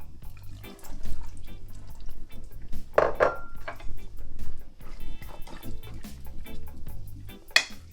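Chickpeas tumble into a pot of freshly grated dried coconut with wet sloshing and clattering bursts, then soft knocks and spoon scrapes against the pot.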